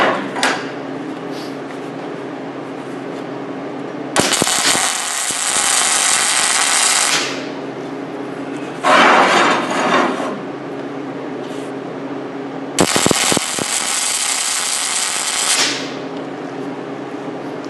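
MIG welding tacks on steel plate sound as three separate bursts of loud crackling buzz, each lasting two to three seconds, with quiet pauses and small clanks between them.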